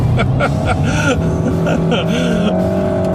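A 2014 Nissan Altima family sedan lapping a racetrack, its engine droning loud and steady close by while a voice talks over it.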